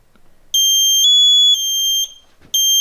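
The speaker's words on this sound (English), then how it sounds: "once it notices that I'm not moving, it's going to alarm" An MSA G1 SCBA PASS device sounds its man-down alarm, loud shrill electronic tones in a repeating pattern of two short bursts, a long held note, then another short burst, with no talking.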